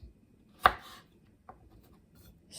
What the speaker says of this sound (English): I'm gonna cut this up into